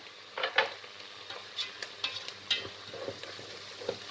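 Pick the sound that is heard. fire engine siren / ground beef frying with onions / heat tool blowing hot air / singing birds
ground beef frying with onions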